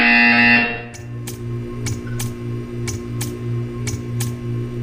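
In the Portal 2 video game a loud electronic buzzer blares for under a second, then a low hum remains with a series of sharp, regularly spaced clicks or ticks repeating roughly every half second.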